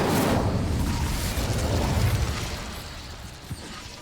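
A fire spell cast in the video game Hogwarts Legacy: a loud, rolling burst of whooshing flame and rumble that slowly fades over several seconds, ending with a small pop.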